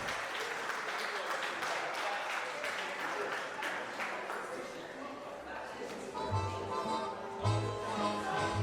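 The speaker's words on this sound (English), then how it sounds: "big round of applause for Haley and her dad," Wedding guests applaud steadily throughout, a dense sustained wash of clapping from a crowd, with music and a voice rising near the end.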